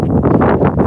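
Brief, loud gust of wind buffeting the microphone on an outdoor morning walk before snow, a low rumbling roar with no speech.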